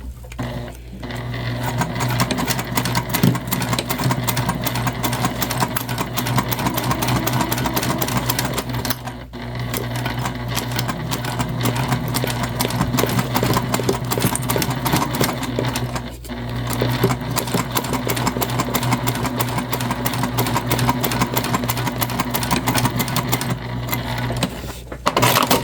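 Sewing machine stitching a large tote bag seam at a 3/8 inch allowance, a steady, continuous close mechanical whirr with rapid needle clatter and a couple of brief pauses, alone without talk.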